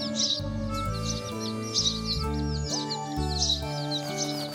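Sparrow chicks in a Marathi children's cartoon give repeated high, quick chirps in short clusters over a sustained musical background.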